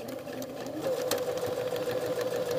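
A sewing machine stitches a welt pocket on a jacket with a steady, close whirring hum. It runs continuously and gets slightly louder partway through, with no talking.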